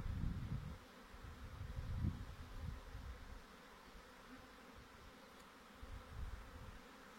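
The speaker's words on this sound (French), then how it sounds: "il n'y a qu'un tout petit essaim qui se crée là-dedans" A small swarm of honeybees arrives at a branch, a dense continuous buzzing hum rising and falling close by, with no voices.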